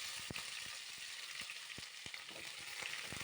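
Sliced onions hit hot oil with whole spices and two dried red chillies, giving a steady bright sizzle broken by a few sharp spattering crackles, close and alone with no voices.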